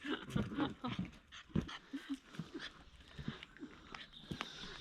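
A dog pants in quick, uneven breaths nearby, with scuffling movement and a few brief voice sounds mixed in.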